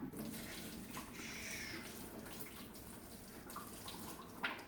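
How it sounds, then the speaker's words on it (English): Very hot water poured steadily out of a container, a continuous splashing stream into a sink or tub, fairly quiet and close, with no talk. "So it's time for us to dump out the water."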